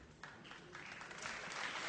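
An audience at the 2011 EELV summer days applauds presidential candidate Eva Joly. The clapping is faint and distant at first, then swells steadily, with scattered hands becoming a fuller wash of applause.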